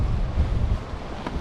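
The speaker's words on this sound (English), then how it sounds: "That wind's kicked up a little bit at the moment" Wind gusts at night over the sea while fishing from shore. It is a steady low rumble buffeting the microphone, with no voices.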